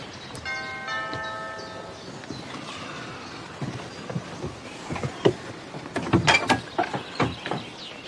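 A doorbell at a house door rings with a brief tonal chime near the start, followed by clicks, clunks and rattling mechanical sounds of the door.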